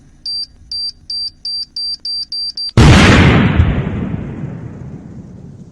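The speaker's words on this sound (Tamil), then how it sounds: "ஃபயர்ல தூக்கி போட்டோன்னே கரெக்டா ஒரு 1 மினிட்ஸ்ல வந்து அந்த பால் மெல்ட் ஆகி பிளாஸ்ட் ஆயிரும்" A fire extinguisher ball thrown into a fire bursts with one loud, sharp blast that rumbles and decays over a few seconds, preceded by a steady run of rapid high-pitched alarm beeps.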